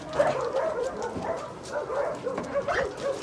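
Nine young dogs in a kennel bark, yip and whimper together in a busy, continuous chorus close by, with no clear human talk.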